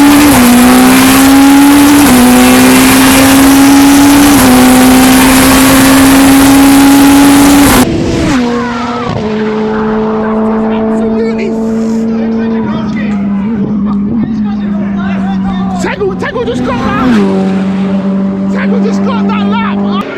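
A time attack race car at Japfest Silverstone 2024 corners fast through a bend, its engine note loud and close with a steady high drone that shifts pitch, then continues more distantly with tire noise.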